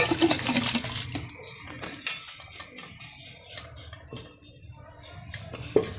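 Cooked mutton for biryani is poured into a pot, giving a wet, sloshing rush at first, then a string of sharp clinks and taps from the utensil and pot, close and fairly loud.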